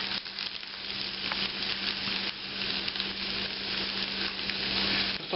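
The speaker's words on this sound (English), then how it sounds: "let's saute up these onions and green peppers" Onions and green peppers sauté in a little cooking oil in a hot sauté pan with a continuous, even crackling sizzle up close, steady throughout with no voices.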